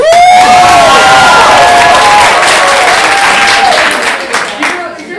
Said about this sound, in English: Whether it be a clap, a whistle, a cheer, this is how we're gonna vote.